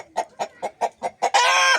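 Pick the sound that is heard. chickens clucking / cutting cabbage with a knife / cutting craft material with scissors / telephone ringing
chickens clucking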